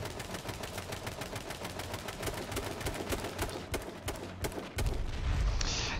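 Rapid automatic gunfire from the H1Z1 survival shooter game, a dense stream of sharp shots, loud and close, with a heavier burst near the end and no talking.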